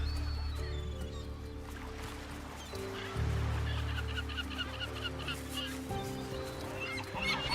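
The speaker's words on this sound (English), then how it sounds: "Their massive colonies are home to thousands of nesting birds. In these dense, noisy grounds, courtship displays are performed" A dense nesting colony of terns calls continuously, with many overlapping harsh, honking cries forming a loud, busy chorus. A few calls stand out nearby above a constant low background rumble.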